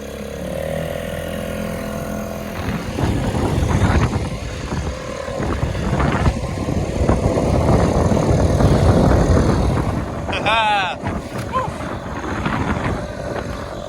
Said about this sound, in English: I'm super stoked to have the outboard running again